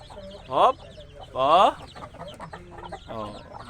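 Chickens clucking nearby in short bursts, a couple of louder drawn-out squawks among softer clucks and background farmyard noise.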